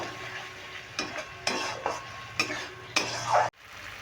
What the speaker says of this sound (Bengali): দেখো মশলা থেকে তেল ছাড়তে শুরু করে দিয়েছে আমি আর একটু কষিয়ে নেব